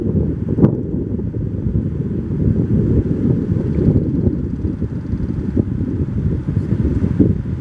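Strong wind buffets the microphone on a stormy sea shore where fishing boats wait to launch, a constant low roar with surf crashing beneath and occasional sharper gusts.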